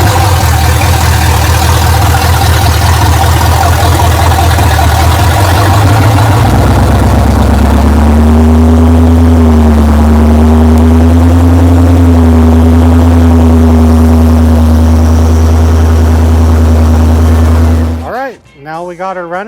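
The engine of an old, long-abandoned truck runs again after a restart, giving a loud, steady, low rumble that settles into an even idle before cutting off abruptly near the end.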